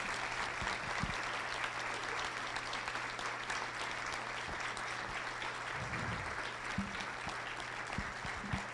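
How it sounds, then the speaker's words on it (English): Sustained round of audience applause at a school awards breakfast honoring AP scholars, steady broadband clapping throughout with a constant low hum underneath and a few brief thumps. "if we can give everyone just a round of applause"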